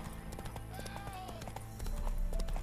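Hooves of a galloping horse in The Witcher 3 video game, a rapid, even clip-clop rhythm with steady game ambience underneath.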